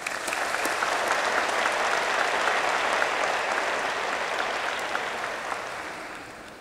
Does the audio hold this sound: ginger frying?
no